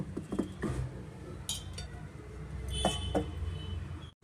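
A steel plate is set over a dish while cooking togaribele obbattu, giving a few sharp metallic clinks and scrapes among light kitchen clatter, close and fairly quiet, with no voices.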